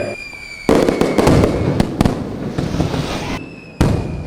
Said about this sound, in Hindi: क्या फटाके तूने जलाए हैं?